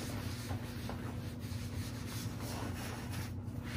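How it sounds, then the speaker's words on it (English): A sponge rubs sealer onto a scratched leather surface in circular motions, giving a soft, steady scrubbing swish close up with no pauses. "in circular motions with our arm, we're just going to apply the sealer"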